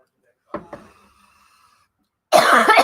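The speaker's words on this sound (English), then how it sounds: "I cough." Two quick, sharp coughs sound close in a quiet room, followed by a pause and then a person speaking.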